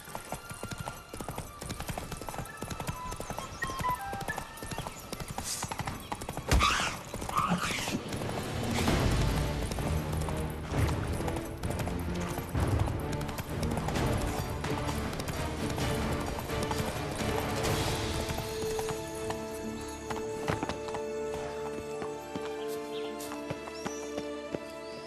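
Roach, the horse in The Witcher 3: Blood and Wine, galloping with steady rhythmic hoofbeats under layered game music and ambience, the hooves clear and close throughout.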